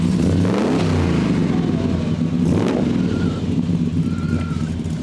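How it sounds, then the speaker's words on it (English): Muscle car at a V8 and vintage car show, its engine revving loudly nearby in a deep throaty roar that swells and drops, with faint talk in the background. "Give it a rev, mate."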